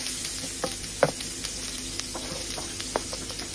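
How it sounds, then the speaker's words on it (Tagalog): Ginger sautés in hot cooking oil for fish paksiw, giving a quiet, steady sizzle broken by a few sharp pops and crackles. "Magigisa na po ako. So maglagay na ako ng cooking oil."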